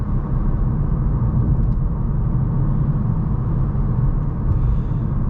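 Inside a 2024 VW Golf R with manual gearbox while driving, a steady low road and tire rumble fills the cabin, constant and fairly loud with no speech.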